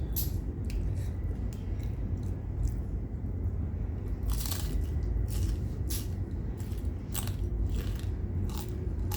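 Burmese food dipped in a pink sauce is bitten and chewed close up, with repeated sharp crunches at irregular intervals over soft chewing, mostly clustered in the second half.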